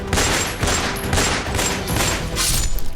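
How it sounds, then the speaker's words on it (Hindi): A rapid burst of repeated gunfire at a petrol pump in Gokulpuri, Delhi, with several close, loud, sharp reports following one another over a few seconds. "धाई धाई से दहली राजधानी, 16 राउंड से ज्यादा फायरिंग।"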